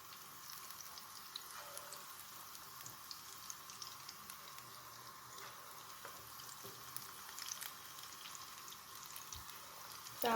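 Methi gota, fenugreek-leaf fritters, fry slowly in hot oil over low heat, making a soft continuous bubbling and crackle, faint and close, with a few small clinks.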